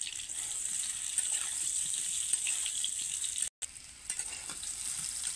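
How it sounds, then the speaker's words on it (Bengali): Sour raw amla (Indian gooseberries) being stirred with five-spice in a kadai for a tangy-spicy pickle, giving a steady close sizzle and frying hiss with faint scraping, a brief dropout near the end. "এই আমলকিগুলো টক টক আমলকিগুলো যখন 5 ফোড়ন দিয়ে নাড়ছি কড়াইতে"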